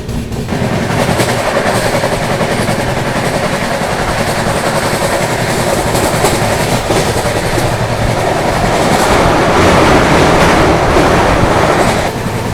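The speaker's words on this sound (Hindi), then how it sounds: "गाड़ी बढ़िया रफ्तार में भाग रही है, फ्लैट 110।" The 22412 Arunachal AC Superfast express runs flat out at about 110 km/h in heavy monsoon rain, a loud, continuous roar of wheels and coaches with steady rail clatter throughout and no voices.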